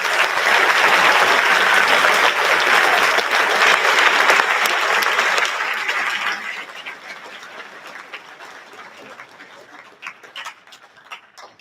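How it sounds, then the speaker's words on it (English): A crowd at a high school Veterans Day ceremony gives a long round of applause for veterans, dense and loud at first, then thinning into scattered claps as it fades. "Let's have one more round of applause for all of our veterans."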